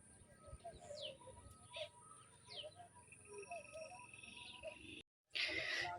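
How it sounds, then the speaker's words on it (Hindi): Soft pigeon coos repeat at intervals alongside scattered small bird chirps, faint and somewhat distant, ending with a brief burst of noise. "ये कबूतर फिर से नीचे आए हैं"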